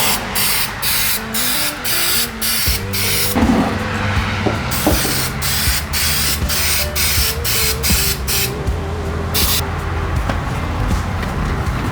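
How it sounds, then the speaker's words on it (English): Spray adhesive hisses onto the seat upholstery of a 1981 XR80 motorcycle in repeated short, loud bursts with a regular rhythm, close to the can, with no talking. "spray on the adhesive, push it back over, and do the same thing on the back"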